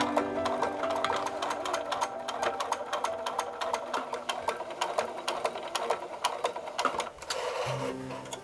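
Sewing machine running long straight stitches across a corset, a fast continuous mechanical rattle of needle strokes, close and steady before slowing near the end.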